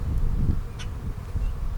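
Honey bees hum in a steady, low, close drone as a beekeeper opens and inspects a hive to make a split, with no talk.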